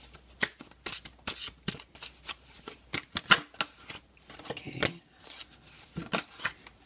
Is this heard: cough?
no